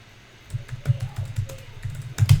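Someone types on a computer keyboard while entering a number in a coding session, a quick run of close, sharp key clicks clustering toward the end, with no talking.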